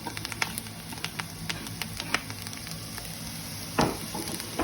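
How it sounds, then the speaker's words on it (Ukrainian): Coral mushrooms and onion frying in oil crackle with a steady close sizzle full of sharp pops, plus a louder stirring scrape near the end and no speech. "І смажимо до золотистого кольору"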